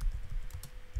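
Quick, soft keystrokes tap on a computer keyboard, a short burst of several light clicks in fast succession typing a command, close and quiet.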